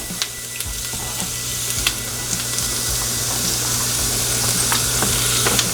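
Garlic and thyme sizzle in melted butter in a hot pan just out of the oven, a loud, steady frying hiss with occasional light stirring clicks.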